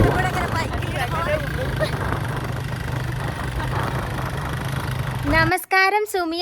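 Motorbike riding through a village, its engine a steady mid-pitched drone with wind rumble that cuts off near the end, where a voice speaks.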